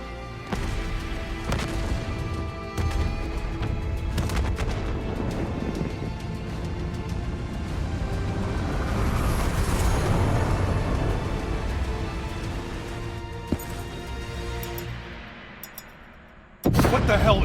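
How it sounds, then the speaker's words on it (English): Heavy booms and blasts roll through a facility in Call of Duty Black Ops 3, with repeated sharp impacts over a dense rumbling wash of debris and effects, rising to a loud swell before fading, then a final hit. "we have multiple explosions across the facility"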